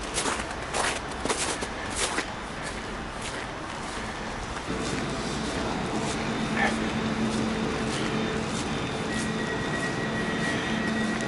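Clattering station noise gives way to a steady mechanical hum and a sustained beeping tone as train doors shut at a platform of Bytom PKP station, Poland.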